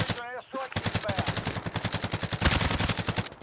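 Rapid automatic gunfire in the Warzone battle royale game, loud bursts fired in a fast regular rhythm after a brief voice at the start, continuing nearly nonstop.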